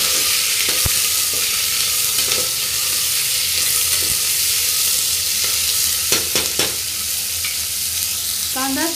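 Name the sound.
chopped onion frying in pan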